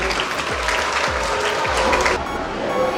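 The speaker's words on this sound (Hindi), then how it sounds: "भरपूर तालियां नहीं रुकनी चाहिए।" Audience applause at a school welcome event, dense clapping that carries steadily for a few seconds before easing off near the end.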